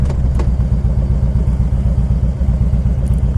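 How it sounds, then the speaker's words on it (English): A 2000 Harley Davidson Electra Glide Classic with nearly 80,000 miles idles close by with a steady, loping rumble, its even pulsing beat continuing without a break and no talk over it. "It's got a nice clean idle. It's got a nice smooth idle."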